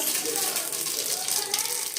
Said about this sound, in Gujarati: જો વઘાર શરૂ કરી દીધો